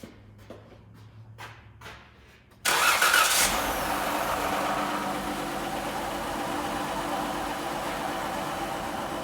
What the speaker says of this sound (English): I can kind of confirm this thing has a misfire because of how lopey it cranks